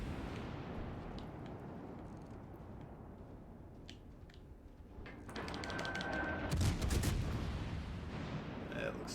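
Soviet destroyer guns in World of Warships Legends fire in a cluster of booming shots after a quieter stretch, heavy low rumble following the volley, with someone talking over the action.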